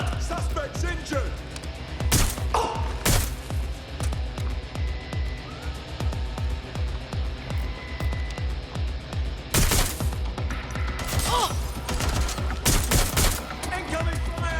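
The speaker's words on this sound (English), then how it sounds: "Incoming fire!" Dense video-game gunfire from Watch Dogs rattles in rapid bursts and repeated single shots, loud and close, with heavy volleys and a few sharp crashing peaks, plus occasional shouted voices.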